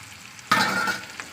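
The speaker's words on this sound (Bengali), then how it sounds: "এবারে ভালো করে আমি ভাজা ভাজা করে নেবো" Onion and garlic hit hot oil in a pan and start frying for a mashed-vegetable dish, a sudden loud sizzle that then hisses steadily and close up, with a brief stir near the end.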